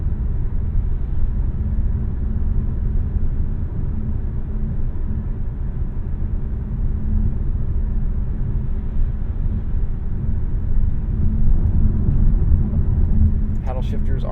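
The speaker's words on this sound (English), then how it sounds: "Let's see how much power this thing has. Quite a bit. You can hear a lot of induction noise as well." 2024 Dodge Hornet R/T Track Pack accelerating hard from the cabin, a steady, loud engine roar with heavy induction noise rising through the run, and a brief click near the end.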